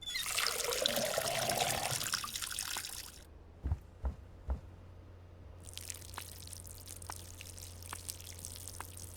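Watering a weed seed in the video game Schedule 1: a bright splashing pour for about three seconds, then a few soft drips and a quiet trickle after a pause, with no voice.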